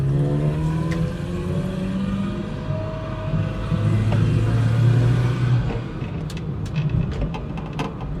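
A Datsun 120Y engine with a carburetor issue revs and accelerates, rumbling loudly with shifting pitch, followed by rapid clicking sounds near the end.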